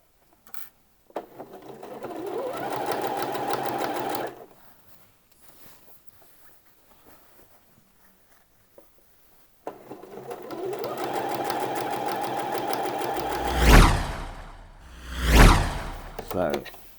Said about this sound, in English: we need to do one very long line of stitching all the way down